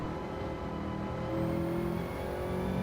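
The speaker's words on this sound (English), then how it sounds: "I know this Subaru's slow" A Subaru WRX engine in a racing game holds a steady drone and climbs slightly in pitch, its hum staying close and continuous without pauses.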